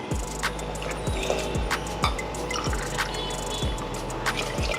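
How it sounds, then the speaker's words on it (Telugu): Water poured into a pot of millet khichdi, heard as repeated splashing pours with drips and gurgles in a close, steady rhythm, no one talking. "సేమ్ దాంతోనే 7 గ్లాసెస్ వాటర్ యాడ్ చేస్తున్నాను."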